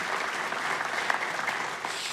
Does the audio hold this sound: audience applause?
yes